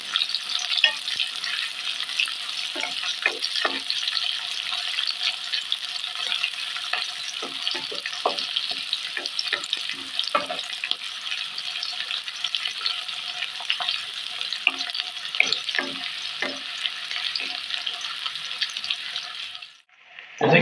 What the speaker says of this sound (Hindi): तो प्याज को ब्राउन कर लेते हैं इसको।